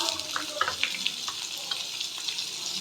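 Two finely chopped medium onions fry in a pan with spices for green chicken, giving a bright, steady sizzle with small pops and stirring clatter up close. No one speaks.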